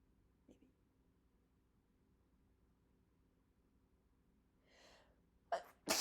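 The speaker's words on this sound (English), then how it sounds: "I'm going to sneeze." One person sneezes near the mic at the end of a quiet stretch, with a short inhale building beforehand and then a sharp, loud burst, with a second burst following right after.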